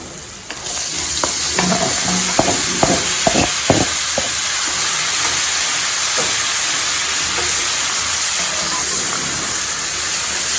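Chopped potatoes hit a hot pan with a few sharp clatters, then a loud, steady sizzle and hiss continues, broken by faint scraping.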